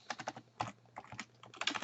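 Keys tapping on a computer keyboard while entering a username and password to log in, a quick uneven run of close clicks with short pauses, quiet and with no talking.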